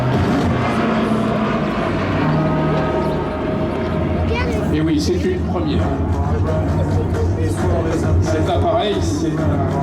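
A loud, droning Grumman Tracker water bomber's propeller engine rumbles continuously overhead at an air show in Biscarrosse, swelling and wavering as it passes, with other noise mixed in.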